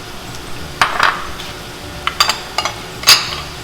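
A utensil clinks and scrapes against a bowl while milk and eggs are mixed for quiche cups, producing a handful of short, close, separate taps and knocks with quiet gaps between them.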